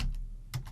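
Quick keystrokes on a computer keyboard: two soft close clusters of taps in under a second, with no talking.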